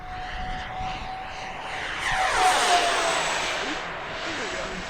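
An Arrows RC MiG-29 model jet running on 6S packs sweeps overhead outdoors, its electric ducted-fan whine rising to a close, loud pass and then fading slightly, with someone talking over the sound.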